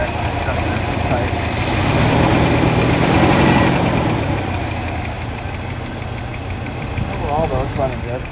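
A 1967 Lincoln V8 with a newly finished exhaust and mufflers idles steadily nearby, a low rumbling drone that swells briefly in the middle.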